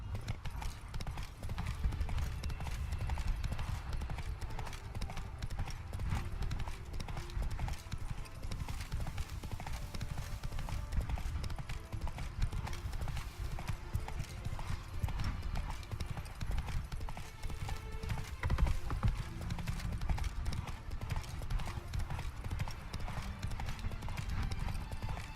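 A horse gallops in The Witcher 3: Blood and Wine, its hooves clip-clopping in a fast, steady rhythm that continues for the whole stretch, moderately loud, with occasional faint speech over it.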